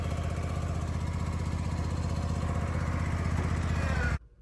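A 2021 Hustler Hyperdrive lawn mower engine runs loud and steady at close range, a continuous rumbling drone with a fast pulsing beat that cuts off abruptly near the end.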